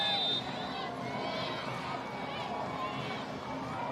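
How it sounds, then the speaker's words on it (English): A stadium crowd at Hodges Stadium cheers on the home side during a women's soccer match, a steady broad roar of voices and shouts holding at an even level throughout. "The crowd here at Hodges Stadium trying to exhort on the home side."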